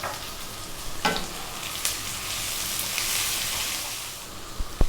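Garlic fries in a pan with salt and pepper for a vegan pumpkin fried rice, making a steady, fairly loud hiss with a few sharp scrapes and taps.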